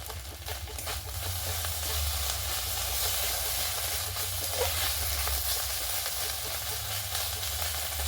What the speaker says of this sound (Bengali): আদাটা ভাজা হয়ে গেছে